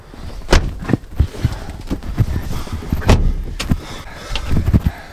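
Car door thuds and clunks as someone hurriedly climbs into a car, several sharp knocks and rustles close by over a few seconds.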